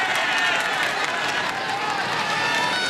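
Spectators lining the course of the 1993 Paris-Roubaix cycling race, a dense murmur of crowd noise with faint clapping, beneath a voice talking.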